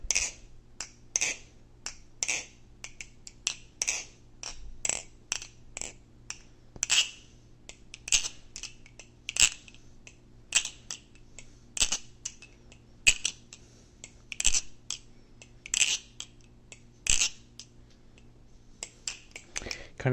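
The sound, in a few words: typing on a Glidr OG 4 keyboard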